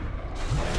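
A short mechanical click of an empty gun out of ammo in Titanfall 2, a brief dry ratcheting sound with no talking.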